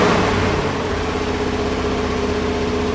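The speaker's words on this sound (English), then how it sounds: "this idle is way up high, but now we can fix that" A 1973 International Harvester Loadstar Blue Bird school bus engine runs at a high idle, a loud steady rumble with even low throbbing and no talk.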